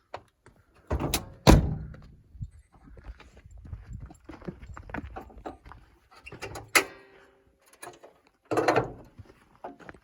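Hood of a Nissan Pathfinder R50 with a VQ35 engine being opened outdoors: a sharp thunk followed by a few clicks and knocks of the latch and mechanism, then more clunks, with quiet gaps between.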